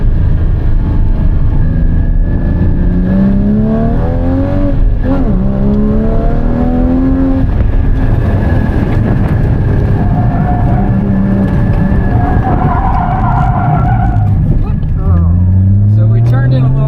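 A car's engine revs and climbs on and off the throttle while drifting sideways on a track, pitch rising and falling in waves under steady talking.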